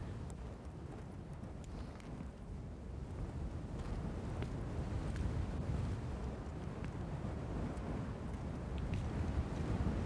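Blustery, cold wind on a Scottish mountain near Arrochar at the head of Loch Long roars steadily into the microphone, a dense unbroken rumble that swells slightly midway, with no voices.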